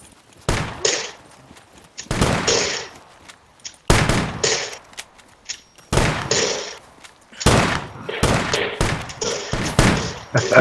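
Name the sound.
shotgun gunfire in a video game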